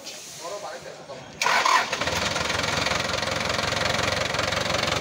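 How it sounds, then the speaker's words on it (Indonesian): A car engine cranks and catches after a quiet stretch of low background sound, then settles into a loud, steady running rumble that is close and continuous to the end. "mobilnya starternya langsung jreng, tapi mesinnya ini kayak gini"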